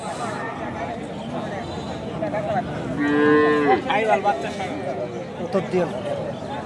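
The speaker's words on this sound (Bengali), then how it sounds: "বাচ্চা সাইওয়াল, সুন্দর ষাঁড় বাচ্চা দেখতে পারতেছেন।" A Sahiwal bull calf about four to five months old and other cattle on a farm moo loudly, one long drawn-out low call in the middle, with people talking over and around it.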